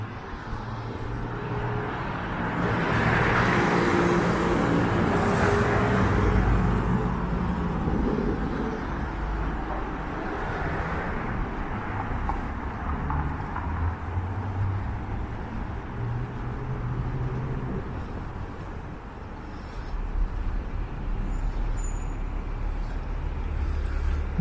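Backed-up car traffic on Richmond St in downtown Toronto, a continuous low rumble of idling and slowly moving vehicles between tall buildings, with a passing swell early on and a steady, moderately loud hum throughout.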